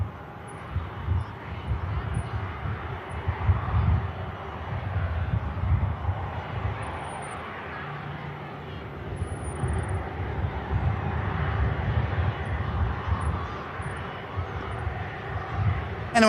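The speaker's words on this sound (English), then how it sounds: "as we wait for the Virgin Atlantic to come around the corner" A Virgin Atlantic airliner, flight 109 for Atlanta, arriving at Manchester Airport: a steady, fairly distant low engine rumble that holds for the whole stretch, with faint background noise.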